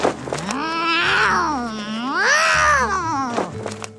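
A cat gives two long, loud, drawn-out meows one after another, close by and rising and falling in pitch, with no talking over them.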